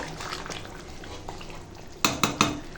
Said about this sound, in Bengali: আর দেখো এখন মাংসটা রান্না হয়ে গেছে এবার ঢেলে ফেলবো